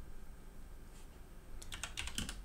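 Fingers typing a command on a computer keyboard, a quick burst of about half a dozen close, crisp key clicks after a brief quiet pause.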